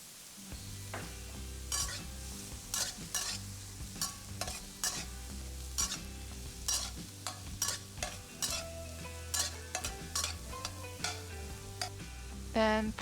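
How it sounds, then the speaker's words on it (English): Fried rice with shrimp, peas and carrot being stir-fried in a pan, with steady sizzling and frying under repeated scraping and clanking strokes of the spatula against the pan, close and fairly loud throughout. "Keep stirring."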